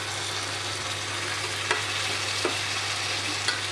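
Chicken frying in mustard oil under a banana leaf cover on low heat makes a constant soft sizzle with a low hum, broken by a few faint taps. No one speaks.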